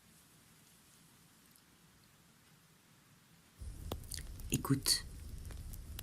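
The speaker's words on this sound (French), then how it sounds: "le feu qui crépite" A fire crackling in a cozy indoor winter cocooning setting starts after a few quiet seconds, then gives dense, close pops and snaps over a soft hiss, with a brief hushed voice speaking.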